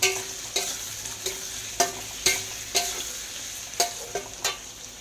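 Potato pieces sizzle steadily in hot oil in a village kitchen pan, with sharp spatula scrapes and clacks against the metal roughly every half second, close and alone without voices.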